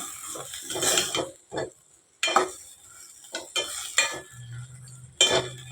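Okra with salt and chili powder is stirred in a pan in uneven bursts of scraping and clinking, with a soft sizzle underneath and short quiet gaps between the stirs.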